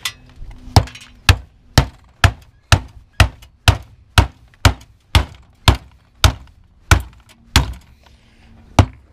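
A small hammer striking a stuck pin that holds a motor, scrapping outdoors in the cold: about seventeen sharp metallic blows land in a steady, even rhythm, close and loud, with brief quiet between strikes.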